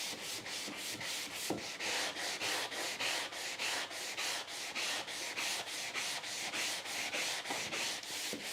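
Sandpaper rubs back and forth over a scraped wooden door in a fast, even rhythm of steady strokes, close and continuous with no talking.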